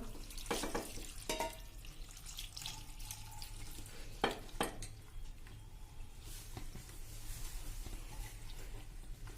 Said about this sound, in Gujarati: અત્યારે જો હું પાણી નાખી દઉં છું ગરમ